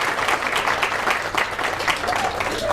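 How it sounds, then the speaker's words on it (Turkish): Audience applause at a community event with families and teachers at a teachers' guesthouse in Eskişehir, a dense burst of clapping that carries on without a break for a few seconds, with voices mixed in. "Bir alkışlayalım."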